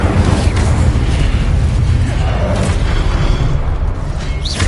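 A loud, roaring blast from the Incendio fire spell in a Harry Potter video game, sustained and booming throughout with a dense, rushing rumble.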